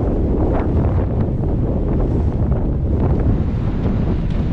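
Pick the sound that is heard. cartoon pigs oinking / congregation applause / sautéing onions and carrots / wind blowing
wind blowing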